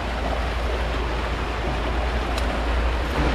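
River water flowing steadily through a Gayo arabica coffee garden, a dense broadband rush, close and continuous, with no voices.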